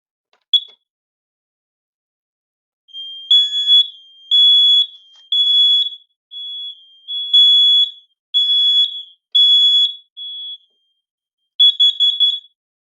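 A hardwired combination smoke and carbon monoxide detector sounds its alarm: a loud, piercing high electronic beep, one short chirp then repeated bursts of shrill tones with brief gaps, close and alone without talk.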